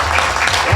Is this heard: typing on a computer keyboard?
no